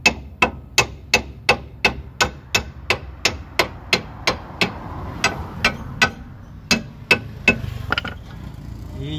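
Steady, evenly spaced hammer strikes ring out on metal while seating a car suspension bushing, about two per second, then slow and become irregular near the end. No talking.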